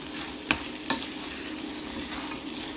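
Onions fry with langoustines in a pan, giving a soft, steady sizzle with two brief scraping knocks of a utensil early on, quiet and close.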